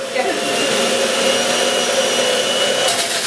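An electric juicer runs close and loud in a kitchen, a steady motor whine with a strong broadband roar that holds constant for a few seconds.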